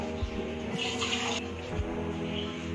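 Water is poured from a glass into a cooking pot of mutton, a soft, brief splashing rush over a steady low kitchen hum, with no speech.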